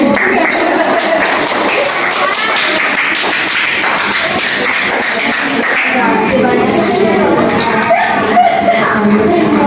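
Classroom applause during a religious lesson at a school, a steady dense patter of many hands clapping close by with some shuffling and a few whoops, continuous and loud throughout.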